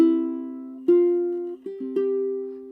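Ukulele chord melody arrangement: a few sustained strummed chords with a melody line ringing on top, each struck chord decaying before the next, close and clear with no talking.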